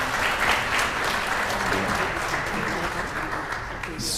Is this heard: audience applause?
yes